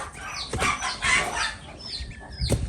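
Hens and their chicks in a coop cluck and peep close by in short overlapping calls, with a brief flutter of wings amid the noise.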